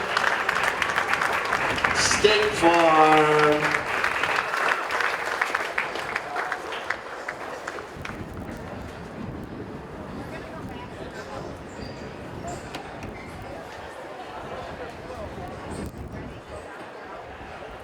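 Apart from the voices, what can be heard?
crowd applause for polo tournament winners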